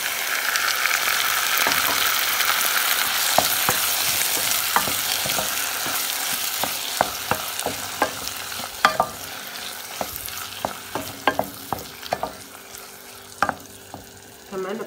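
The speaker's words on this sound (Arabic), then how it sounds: "هلا بحط البندورة" Chopped tomatoes are stirred into onions frying in a pan, giving a steady loud sizzle throughout. Frequent close clacks and scrapes from the stirring utensil sound over it, and no one speaks.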